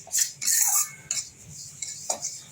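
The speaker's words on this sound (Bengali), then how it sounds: "সুজি দিয়ে আমি একটু নাড়াচাড়া করছি" A metal spoon scraping and clinking against a hot kadai while semolina is stirred in ghee, a few close, irregular bright scrapes and taps with quiet gaps between them.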